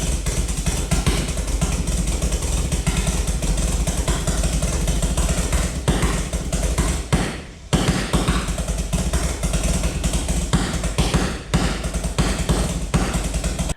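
An air-driven pulse detonation engine, fed about 100 psi through a 1/8 nozzle, blasts into a car turbo turbine with a loud, continuous rapid pulsing roar and a brief dip near the middle.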